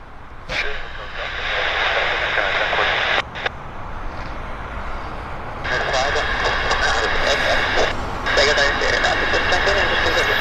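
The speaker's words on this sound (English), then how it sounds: "We've got a real Dash 8 behind it right there. Central Mountain Air Dash 8. Now on the active." A Central Mountain Air Dash 8 turboprop at Vancouver Airport hums with a loud, sustained propeller drone that rises later on. Someone talks over it and radio chatter breaks in.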